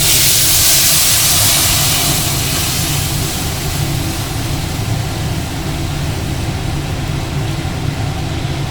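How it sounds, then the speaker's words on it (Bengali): Mustard paste water pours into a fish curry in a hot pan, producing a loud burst of hissing sizzle that gradually settles into a steady bubbling simmer close by. "মা এখন সর্ষেটা দিয়ে দেবে, সর্ষে বাটা জলটা এখানে ইউজ করে দেবে"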